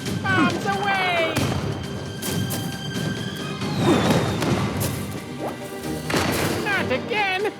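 Bombs go off in the video game Skylanders Trap Team, with repeated crashing, thudding blasts and sparkly chime effects. Character voices talk over the noisy game action.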